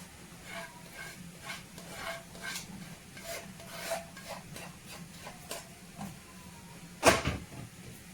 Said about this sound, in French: Et je mélange le tout.